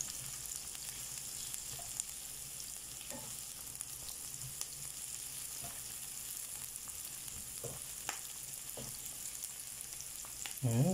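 Onions fry in a pan for ginisang ampalaya with tuna, giving a steady, close sizzle with occasional scraping stir clicks, no talk over it.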